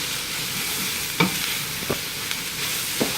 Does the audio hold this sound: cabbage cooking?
yes